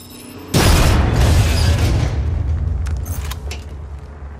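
A grenade detonates in the Apex Legends battle royale: a sudden loud, close boom that rolls into a long rumbling, crackling decay, with faint clinks and game sounds as it fades.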